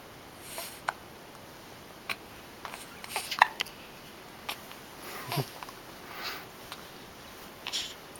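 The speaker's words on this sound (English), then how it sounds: "His little man got the hiccups." Soft, brief hiccups and small sniffs from a young child come as scattered isolated bursts over a quiet indoor background, faint and irregularly spaced with no talking.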